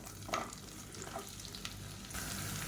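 A large, medium-sized onion sliced lengthwise fries in hot oil for biryani, giving a quiet, continuous sizzle with small crackling bursts and a faint stirring scrape.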